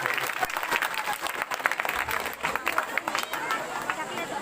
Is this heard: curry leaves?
no